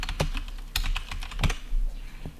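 Rapid keystrokes on a computer keyboard while entering CSS code, a quick uneven clatter of close, crisp clicks with a few heavier taps, no talking over it.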